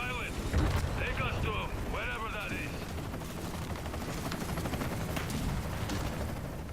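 Gunfire from a Gears 5 match crackles as dense, continuous bursts throughout, mixed with game effects and music, while voices talk over it.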